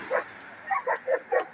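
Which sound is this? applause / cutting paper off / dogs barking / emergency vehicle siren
dogs barking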